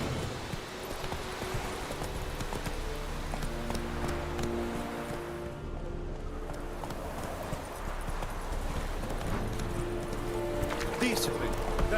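Steady rhythmic hoofbeats of a horse galloping in The Witcher video game, running continuously under a dense layer of game background sound.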